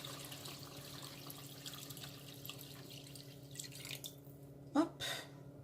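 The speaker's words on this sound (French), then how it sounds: "on met de l'eau froide." Cold water poured from a tap for cooking Moroccan lentils with chicken, a steady low running-water wash in a kitchen that ends in a couple of louder splashing bursts near the end.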